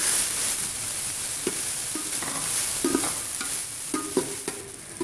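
Chicken frying in oil with ginger garlic paste, a constant sizzle under scattered spatula scrapes and knocks against the pan, close and fairly loud.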